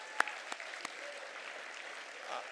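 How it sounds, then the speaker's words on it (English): Audience at a press freedom awards ceremony breaking into applause, a few sharp early claps swelling into steady, moderately loud clapping from a room of people. "Can we just give a round of applause to Kristen Welker?"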